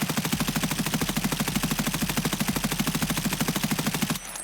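Rapid automatic rifle fire rattles in one long, loud, evenly spaced burst in the shooter game Escape From Tarkov, close and sustained before cutting off abruptly near the end.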